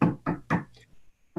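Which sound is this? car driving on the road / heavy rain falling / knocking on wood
knocking on wood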